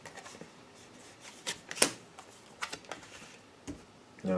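Tarot cards being laid down on a table one after another, a series of soft, close slaps and flicks at an uneven pace, with a sharper snap near the middle and no talking.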